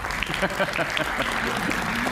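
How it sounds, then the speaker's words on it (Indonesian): Applause from a studio audience during an Indonesian televised political talk show, a steady patter of hands with some background voices mixed in, moderately loud and continuous throughout. "Itulah tepuk tangan juga untuk iNews"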